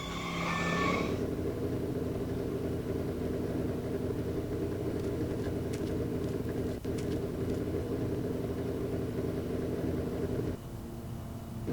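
A car engine runs in the Wii Back to the Future video game, a steady mid-pitched drone that holds throughout with faint ticks and a brief chime at the start.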